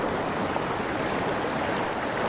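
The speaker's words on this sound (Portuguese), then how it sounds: "que é essa correnteza" Strong river current rushing over rocks in rapids, a loud, steady, broadband roar that fills the whole stretch without pause, close by and with no voices.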